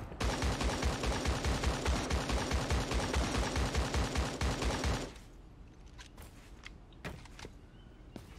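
Rapid, rhythmic automatic gunfire in the video game Creative Destruction rattles loudly for about five seconds, then stops, leaving quieter scattered clicks and thuds.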